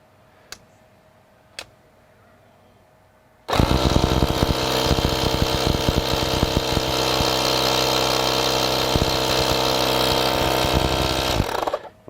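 A Hulkman jump starter's built-in compressor pumping up a tire outdoors: two faint clicks, then a loud buzzing motor hum that starts abruptly, runs steadily for about eight seconds and cuts off.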